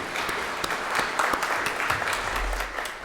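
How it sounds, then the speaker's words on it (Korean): A church congregation at a Sunday service applauds together, with many hands clapping in a full, steady wash that carries evenly through the whole stretch and no voices over it. "큰 박수로 하나님께"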